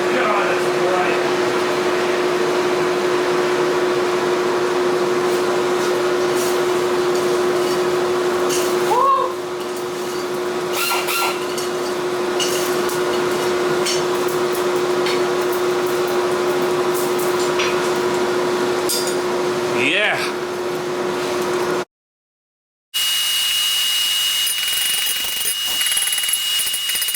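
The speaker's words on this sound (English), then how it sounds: "Man, the forge is running well today." Knife-making forge running steadily, a constant roaring blower hum with a steady tonal drone, close and loud throughout, with faint clinks and brief shifts, then a short dropout near the end before a quieter hum resumes.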